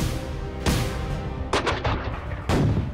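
Artillery battery firing during the siege of Yorktown, heard as three heavy booming blasts: one at first, a short cluster of rolling reports in the middle, and a final loud blast, all over a steady rumbling background.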